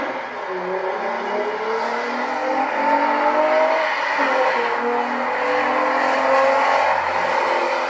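A car passes by outdoors, its engine rising and falling in pitch as it goes through, a steady moderate whir and hum with no talking.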